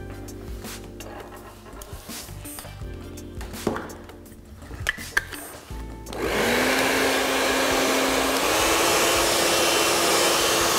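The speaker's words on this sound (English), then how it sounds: "So all we're doing now is literally blow drying the hair all the way forward to where it naturally sits" Hair dryer blow drying short hair forward, starting after several seconds of handling knocks and rustles, then a loud, steady close-up roar that holds to the end and shifts slightly in pitch.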